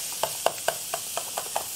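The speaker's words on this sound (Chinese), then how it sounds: "好，我们来试一下煎牛排。" Steak frying in a 99-yuan sandwich maker heated to around 230–260 degrees, giving a steady close sizzle broken by about eight soft crackling pops spaced roughly a quarter second apart.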